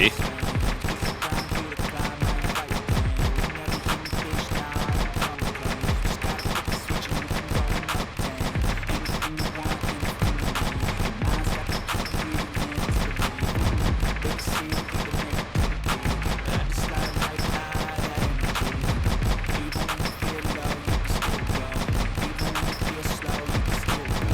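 Rapid, continuous gunfire from the Aim Lab aim-training game runs dense and unbroken at an even, loud level throughout, with shots fired in quick succession at close range.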